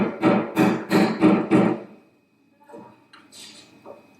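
Five sharp, fairly loud taps in a steady rhythm while a RuboCar kit is assembled, followed by a pause and then quieter handling noise and faint talk.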